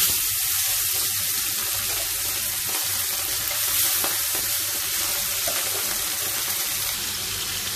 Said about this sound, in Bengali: এখন মাছটা কড়াইয়ের মধ্যে দিয়ে দিচ্ছি